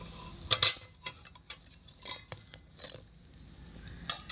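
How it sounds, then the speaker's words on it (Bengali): Potato jalebis are dropped into warm sugar syrup and stirred, giving a scattered series of light clinks and soft taps of a utensil against a pan, faint and irregular, with no talking. "এই হালকা গরম চিনির রসের মধ্যে এগুলো আমি দিয়ে দিলাম"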